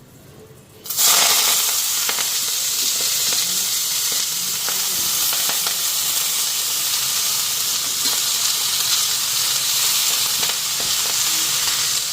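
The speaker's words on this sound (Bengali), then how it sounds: "তাওয়াটার মধ্যে বড়াগুলি ভেজে নেব" Lentil fritters (bora) fry on a flat griddle pan, a loud, steady sizzle that starts abruptly and then crackles on without letup, with no talking.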